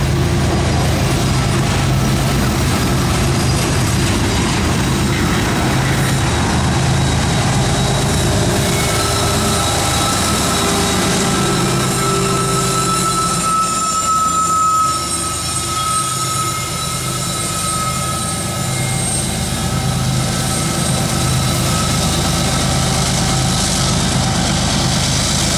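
A CSX ES44AH diesel locomotive pushes at the rear of a freight train, a loud, continuous rumble of engine and rolling cars with wheel squeal and metallic ringing tones throughout.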